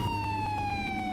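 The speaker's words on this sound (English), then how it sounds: "That's the sound of the safety car" A steady siren tone from the safety car at the Subida al Fito European Hill Climb Championship round, held loud and close with a slight downward drift and no talk.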